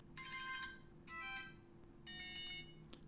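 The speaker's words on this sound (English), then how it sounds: "You can change the ringtone from 3 different ones." Three short bursts of a harsh electronic ringtone from a No 1 G3+ smartwatch, each a buzzy chiming tone with brief gaps between, played close and clear against near silence.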